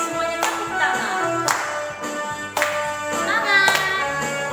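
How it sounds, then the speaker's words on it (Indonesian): Children clap in a steady rhythm, about once a second, along to the hymn Segala puji syukur sung at a GBKP Sunday school service in Kabanjahe, with the singing and music continuing under the claps. "semuanya tepuk tangan"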